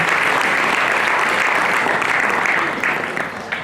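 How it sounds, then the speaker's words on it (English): An auditorium audience at a college startup competition finals applauds its mentors with a dense, steady wash of clapping that holds loud for several seconds, then thins and fades toward the end. "Please give our mentors a huge round of applause once again."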